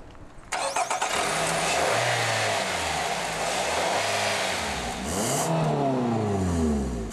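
Starting up and then accelerating, a 2014 Nissan Rogue's 2.5-liter engine gives a loud, close, steady drone that rises and falls through several revving swells with no talk.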